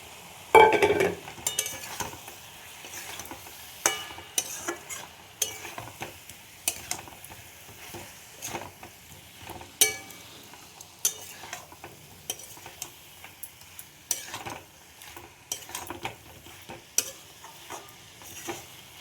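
Marinated soybean chunks and potatoes are stir-fried in a pan, with a low sizzle under repeated spatula scrapes and metallic clinks that come in irregular bursts, one sharp knock at the start.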